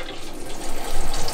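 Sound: water pump spraying through overhead shower filter for goldfish

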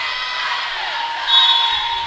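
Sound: loud crowd cheering at a volleyball match

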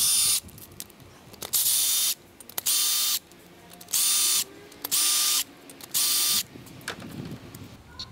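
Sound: ratchet removing cam plate bolts on Harley-Davidson Dyna

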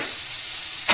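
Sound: eggplant bharta masala frying in a pan

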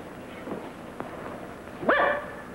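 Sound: dog barking

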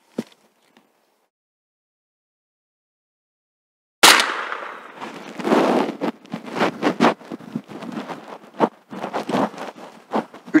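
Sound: gunshots at shooting practice

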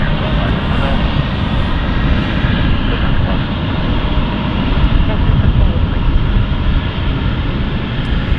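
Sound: British Airways BA CityFlyer plane at London City Airport

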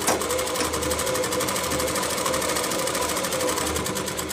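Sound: sewing machine stitching a kurti

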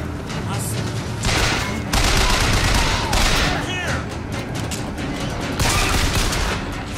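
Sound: gunfire from a gun in the video game BioShock Infinite

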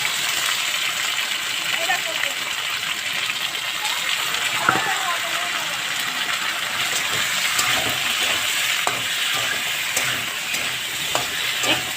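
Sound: ginger and dried chilli paste frying in a pan

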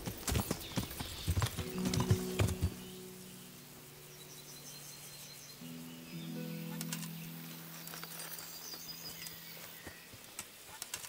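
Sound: horse hooves in video game

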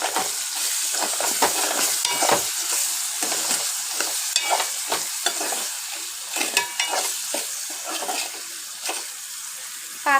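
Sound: stirring bitter gourd curry in a pan

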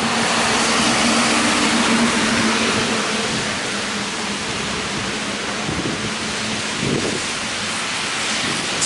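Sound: wind blowing outdoors as storm approaches

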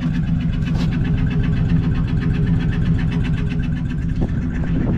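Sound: flathead V8 engine idling exhaust rumble

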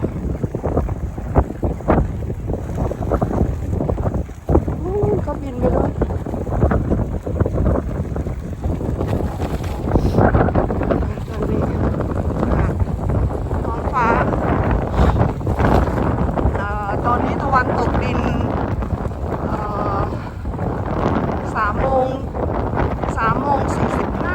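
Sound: strong wind

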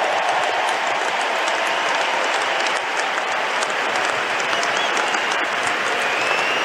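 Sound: audience applause after the US Open women's final

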